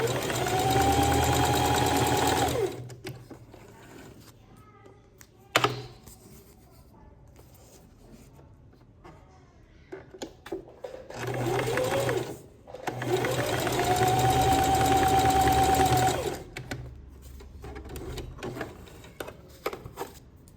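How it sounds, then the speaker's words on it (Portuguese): A sewing machine runs two long bursts of stitching, putting a safety seam along the side of a children's multipurpose pencil case. The motor whirs loud and steady and rises in pitch at each start, with a quiet pause and some handling noise between the runs. "Eu vou passar uma costurinha aqui e uma na lateral, só por segurança, que é uma costura de segurança mesmo."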